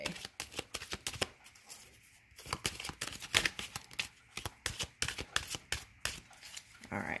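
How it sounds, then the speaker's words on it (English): A deck of cards is shuffled close up in quick bursts of crisp riffling and flicking, with short pauses between rounds. "So let me go ahead and shuffle them"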